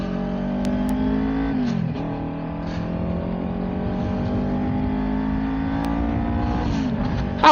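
A Kawasaki Ninja 400 motorcycle engine drones steadily and close, its pitch climbing and dipping with a couple of throttle changes and the rider's riding noise underneath, with no talk.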